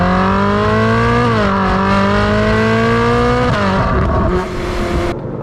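Ferrari 458 engine revving hard toward its 9,000 RPM redline, a loud, close, high-pitched howl with strong harmonics whose pitch dips briefly between gear changes, alone with no talk.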